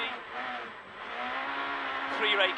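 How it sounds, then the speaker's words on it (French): Craig Breen's Peugeot 207 rally car on a stage of a European Rally Championship event, an engine droning at steady revs that rises toward the end, under a commentator's voice. "Craig Breen au volant de sa Peugeot 207"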